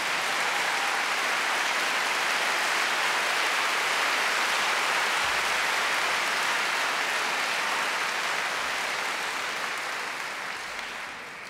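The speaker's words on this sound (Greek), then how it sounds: "Τελευταίο χειροκρότημα πριν φτάσω στην πόρτα." A concert audience in a large hall gives dense, sustained applause at Megaron in 2012. The crowd of clapping hands forms a steady wash of sound that tapers slightly at the end, with no voices over it.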